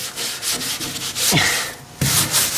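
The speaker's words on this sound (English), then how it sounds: "just using the red Scotch-Brite pad and trying to get in all these little cracks and crevices so I can get paint stick" Red Scotch-Brite pad scrubbing a car floor on a Nova during paint prep, heard as loud, close, rough rubbing strokes in an uneven back-and-forth rhythm, with a short squeak partway through.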